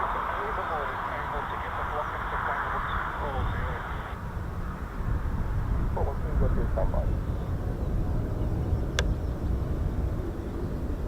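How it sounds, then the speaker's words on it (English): A Lockheed F-35B stealth fighter taxiing at an RAF air base, heard as a steady distant jet engine roar and whine beneath wind noise and background chatter. "I think there is an F-35B hopefully taxiing out shortly."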